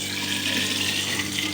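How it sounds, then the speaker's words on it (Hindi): Tap water runs steadily into a bottle at home, a continuous close splashing hiss with no pauses and no voices. "ये बोतल भर भर रखे जाओ"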